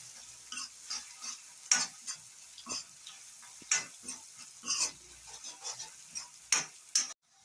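Ginger garlic paste with turmeric fries in oil while a spoon stirs it, giving repeated soft scrapes and a light sizzle in a quiet kitchen; no voices.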